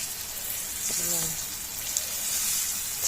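Zucchini fritters sizzle and fry steadily in a pan, a constant hissing crackle throughout with a few brief louder pops, close by in a home kitchen.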